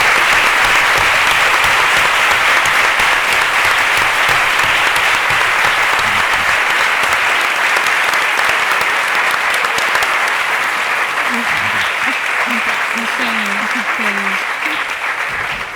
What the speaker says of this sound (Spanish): gracias por ese aplauso, se lo merecen, de verdad